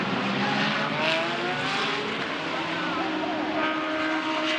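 GT race cars in the Blancpain GT Series Asia at Fuji running through turn 1, engines roaring steadily as the pack passes, with a commentator talking over them.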